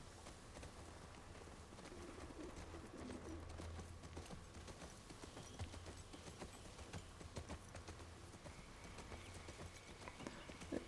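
Horse hooves clip-clop in a steady walking rhythm in the video game The Last of Us Part II, the horse carrying two riders, moderately close, with pigeons cooing and birds calling faintly in the surrounding ambience.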